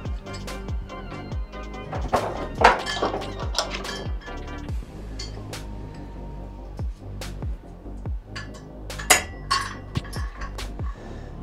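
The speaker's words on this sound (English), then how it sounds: "Let me get my pulley system." Metal parts of a fitness pulley system clank and knock as it is set up, with scattered sharp clinks and thuds at an irregular pace, close and moderately loud, no voices.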